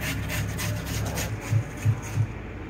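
Radish being grated by hand, close rough rasping strokes in a quick repeating rhythm, followed by a few soft thumps as the strokes ease off.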